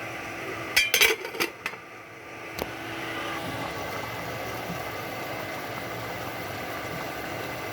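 Lid clatters shut on a pot of boiling vegetables for a fish and vegetable dish, a few sharp metallic knocks up front followed by a steady low bubbling hiss.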